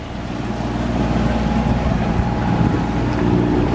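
A sailboat motoring under engine power off Bimini in the Bahamas: a steady, loud low drone with broad wind and water rush that holds evenly throughout, with no voices.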